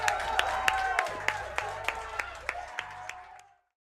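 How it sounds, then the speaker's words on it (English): Sparse, distinct claps of applause ring out over a low, rhythmic background bed, fairly faint, then cut off abruptly. "Please give him a round of applause."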